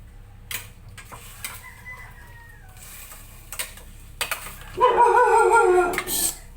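A dog yelps and howls in a home kitchen where pork kaldereta is being cooked, with a loud, close, drawn-out cry near the end after scattered clatter and a few soft thumps.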